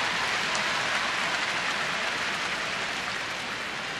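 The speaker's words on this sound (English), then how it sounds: "It's raining just ever so gently at the ballpark." Gentle rain falls steadily over a baseball ballpark during a Yankees at White Sox game, a soft continuous hiss of drops heard alone at even, moderate loudness throughout.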